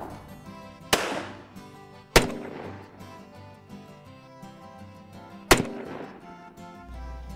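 Three loud, sharp gunshots ring out while nutria rats are hunted in South Louisiana, each a sudden crack followed by a ringing decay, spaced a couple of seconds apart over background music.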